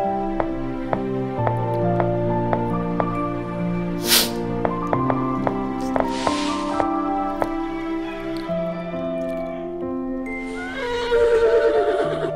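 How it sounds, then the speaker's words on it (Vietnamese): A horse neighs once in the Mad Father video game, a loud whinny near the end that rises over soft, plinking game music with a few small clicks and no talking. "Mình nghe có tiếng ngựa."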